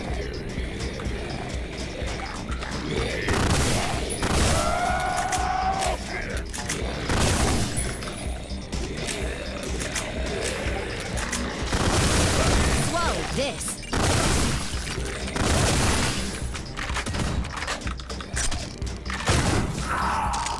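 Shotgun blasts in the retro first-person shooter Ion Fury, heavy booming shots scattered irregularly through a busy mix of game noise, with a voice talking over parts of it.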